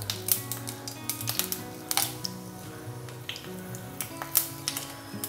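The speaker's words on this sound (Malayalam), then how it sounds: "എണ്ണ നന്നായി ചൂടായിട്ട് നമുക്ക് ഇതിലേക്ക് ഒരു അര ടീസ്പൂൺ കടുകിടാം" Mustard seeds popping in hot oil in a pan while cooking a brinjal stir-fry, a string of sharp irregular crackles and clicks over a low background hum.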